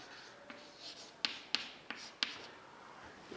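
Marker or chalk writes on a board during a physics lecture on momentum, giving faint, quiet strokes with several sharp taps and scratches in an irregular rhythm and no talking.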